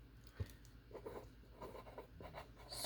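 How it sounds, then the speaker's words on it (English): Quiet pen strokes scratching across paper close up, a series of short irregular scribbles and taps with faint rustling between them. "so here, we'll write on here."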